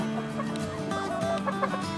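Steady, continuous clucking from a Brakel rooster close by, a busy layered cackle that runs the whole time with no talking over it.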